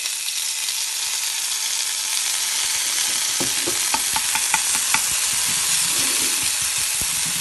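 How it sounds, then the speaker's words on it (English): Chopped garlic frying in a pan for a quick vegan recipe, a loud continuous sizzle and hiss with a short run of light spoon taps and clicks partway through, close up and with no voices. "And you fry the garlic as long as you know that it takes to fry garlic"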